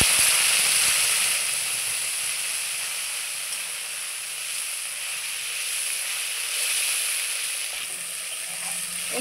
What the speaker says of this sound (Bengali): এখন আমি বেটে রাখা পেঁয়াজগুলো দিয়ে দিচ্ছি